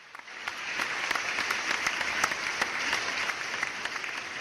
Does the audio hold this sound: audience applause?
yes